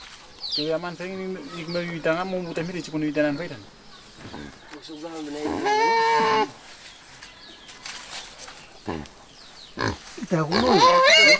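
A pig in Vanuatu grunts and squeals in loud bursts, with voices of people talking and calling around it and short pauses between outbursts.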